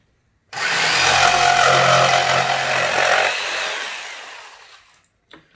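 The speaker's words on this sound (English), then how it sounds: "I'm going to use my trusty old jigsaw." An old jigsaw cutting out a wooden panel template for a DIY room divider, a loud continuous buzzing whine running about four seconds and then trailing off, close by with no talking.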